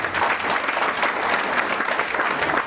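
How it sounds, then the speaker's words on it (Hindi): Audience at a senior trainers' conference in India breaking into loud applause to welcome guests, a dense, sustained wash of clapping close by that holds steady throughout. "चलिए हम चाहेंगे मंच के माध्यम से इन लोगों का जोरदार ताली से स्वागत करने का काम करेंगे।"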